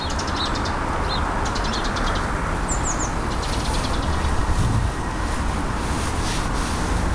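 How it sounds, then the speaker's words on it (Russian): Small birds chirp and tweet faintly through a constant broad hiss of outdoor background noise in a city park in Syzran, with brief scattered calls early on and no talk. "Птички тоже напевают."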